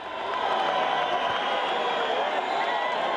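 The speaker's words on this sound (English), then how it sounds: "you can hear it cheering from ZANU-PF MPs, from opposition MPs, and from members of the public" A crowd of ZANU-PF and opposition MPs and members of the public cheers Robert Mugabe's resignation in Zimbabwe, a steady roar of many voices that holds at the same level throughout with no single clear speaker.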